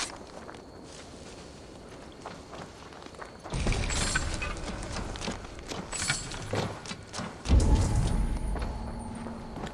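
Horse hooves clip-clop in Assassin's Creed Valhalla: a quieter stretch gives way to louder, busier hoofbeats with jangling, rising to a heavy thump near the end.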